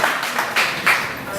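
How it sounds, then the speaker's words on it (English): A live audience at a poetry and music night claps for a performer, a short loose burst of hand claps close by and fairly loud, fading quickly. "Clap it up."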